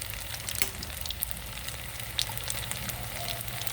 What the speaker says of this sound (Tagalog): Estoy friendo. I'm frying.